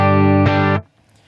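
A single sustained electric guitar chord on the neck pickup through an Axe-Fx III, warm and rounded with a slight effect shimmer, rings clearly then is cut off abruptly into near silence.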